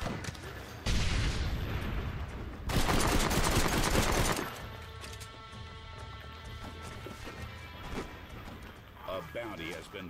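Rapid bursts of machine gun fire in a Red Dead Redemption multiplayer match ring out loud and dense across the first few seconds. Quieter game ambience with tonal music follows.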